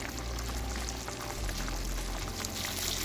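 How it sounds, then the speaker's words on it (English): Hot water from a kettle pours onto pork in a pot, making a steady, close hissing and bubbling rush that continues evenly for the whole stretch, alone without talk. "I'm just adding about half of that water to my pork"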